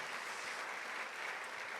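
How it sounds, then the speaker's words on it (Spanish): An audience at a church service applauds in a brief, faint, steady wash of clapping heard from a distance, with no clear voices. "Si le van a aplaudir, apláudanle más fuerte,"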